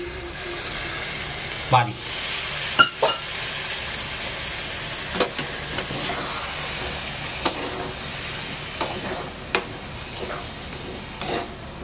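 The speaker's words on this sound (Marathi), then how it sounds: "आणि जरा मसाला चांगला व्यवस्थित या पाण्यामध्ये शिजून घेऊ आपण." Dry Maharashtrian-style chicken masala with tomatoes and kitchen king masala simmers in water in a pan, giving a steady soft sizzle and bubbling broken by occasional sharp spoon clinks and scrapes.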